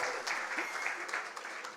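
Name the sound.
audience applause at a launch event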